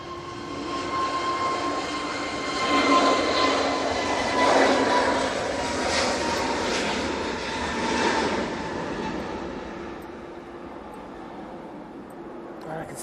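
An Airbus A321neo rolls for takeoff, its engine roar building to a broad peak, holding strong for several seconds and then tapering off. A voice talks over it.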